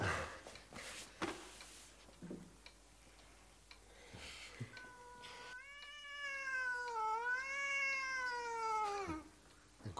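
A tomcat meows in a long, drawn-out wavering call with a rising and falling pitch after several scattered knocks and rustles in a room.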